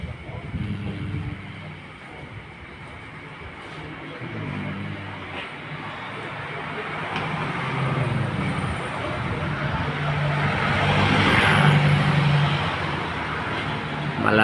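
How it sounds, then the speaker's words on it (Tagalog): Vehicles pass along a roadside, a steady broadband rumble of cars and trucks that swells louder toward the end, with a person talking over it at times. "Nasa gilid lang po kami ng karsada kaya maingay ang mga sasakyan."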